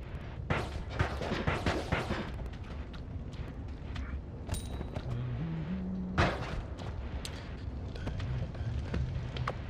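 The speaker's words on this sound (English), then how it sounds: "I love the explosions in this game" Explosions in the game Noita, a string of booming blasts and crackling bursts, dense at the start and again midway, with a short rising synth tone between them.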